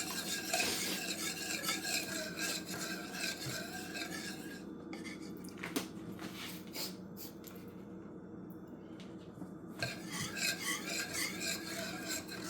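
A spoon stirs rice noodle batter in a bowl, scraping the sides in soft, close strokes with a few light clinks against the bowl, faint and continuous.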